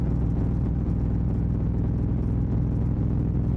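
A motorcycle ridden alone at 1 AM with steady throttle gives a continuous deep engine drone with road rumble, even and unbroken throughout, loud and close.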